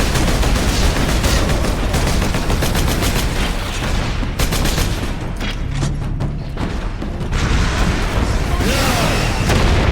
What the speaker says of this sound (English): He has much better angle to shoot at me now.